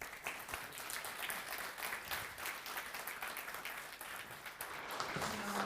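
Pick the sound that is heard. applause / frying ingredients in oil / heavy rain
applause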